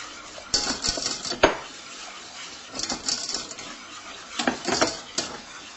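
A spoon stirs béchamel sauce seasoned with salt and nutmeg in a pan, giving soft scraping strokes in short bursts with a few sharp clinks against the pan, close and fairly quiet.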